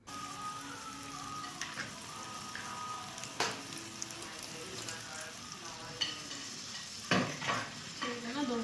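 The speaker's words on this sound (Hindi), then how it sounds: "मैंने तेल को गरम किया, उसके अंदर डाली सारी वेजिटेबल्स और थोड़ा सा गार्लिक।" Chopped capsicum, tomato and a little garlic frying in hot oil, a dense continuous sizzle with occasional spatula scrapes and clinks, close up, without speech.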